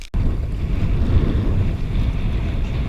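Steady wind roars and buffets the microphone on a small boat out on open water near Saddlehill Key, a continuous loud low rumble with the hiss of water beneath and no voices.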